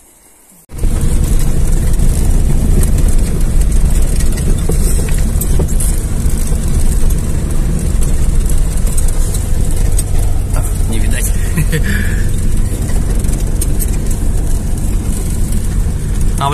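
Car interior on the drive home from a forest, a steady loud road and engine rumble starting abruptly after a moment of quiet and continuing evenly throughout.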